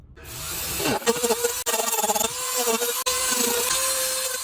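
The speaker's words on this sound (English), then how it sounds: "now I'm going to take the Dremel tool, cut this down to that line straight across there" A Dremel rotary tool cuts across the wood of a hand-carved eagle walking stick, a steady high whine that bogs down and recovers in short bursts and twice cuts out briefly, close and loud, with no talk.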